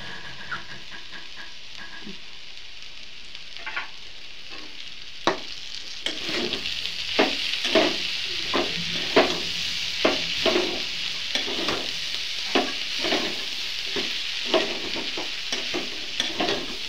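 Ghee going into a banana flower curry in a pan, starting quiet before a sharp sizzle rises, then repeated scraping stirs tap out a steady rhythm over the continuous frying hiss.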